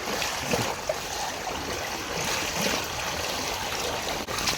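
Floodwater from Typhoon Crising rushes in a strong current across a road in Occidental Mindoro, a continuous churning, gurgling wash, close and steady.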